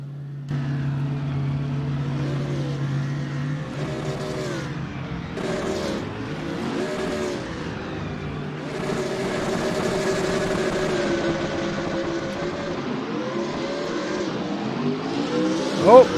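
Race cars launching at the start of a video-game race at Monza, with engine tones rising and falling through gear changes and several cars layered together, loud and continuous.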